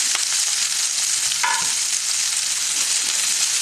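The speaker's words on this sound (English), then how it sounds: "Then we're just going to add our onions." Onions frying in leftover beef marinade oil and meat juices, a steady dense sizzle that fills the whole stretch close up, with a brief stir or clink partway through.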